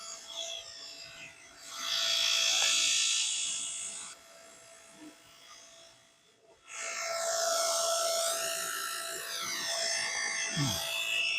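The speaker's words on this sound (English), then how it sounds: "That's terrible, that vac." Shop vacuum at a swimming pool liner installation, running loud and whiny in two long bursts separated by a short drop in level, with brief voices nearby.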